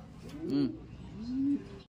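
Two soft, throaty coos from a racing pigeon arriving at a derby, one after the other with a short pause between, close by and clear against faint background noise.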